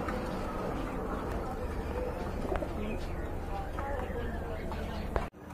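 Paired big-size Panja Mili pigeons at a pigeon sale give soft cooing through a dense, steady bed of crowd chatter and market noise, the coos hard to pick out from the busy background.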